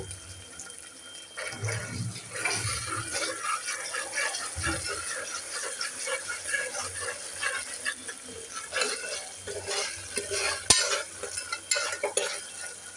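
Onions with ginger garlic paste sauté in a pan for chana masala, with a constant sizzle and repeated scraping of a spoon stirring close by.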